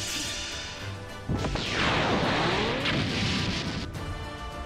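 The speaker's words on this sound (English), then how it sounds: "Unable to escape, Yamcha dies in the explosion induced by the self-destructing weapons the Saiyans had made." Self-destructing weapons explode in the Dragon Ball Sparking Zero video game: a sudden crash breaks in after a low rumble and then swells into a loud, sustained roar that fades slowly.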